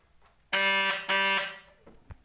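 Two loud, brassy blasts from Optima dual electric car horns sound close up, the first about half a second and the second slightly shorter, followed by faint handling clicks.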